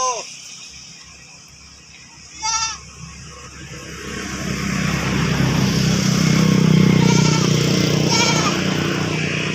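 A newly bought goat on a farm in Oriental Mindoro bleats in a few short, wavering calls, one clear cry early on and more later, amid outdoor rustle, a passing engine rumble and people talking.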